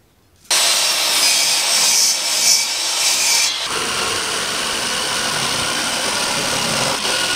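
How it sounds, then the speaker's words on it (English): Jigsaw cutting wood for a bathroom vanity cabinet in a bus, starting abruptly with a loud, close, continuous buzzing rasp that shifts pitch slightly partway through and runs steadily to the end. "I'll have to do this bit with the jigsaw and just try and get it as neat as I can."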